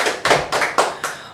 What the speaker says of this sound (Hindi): जोरदार तालियां भाई साहब के लिए।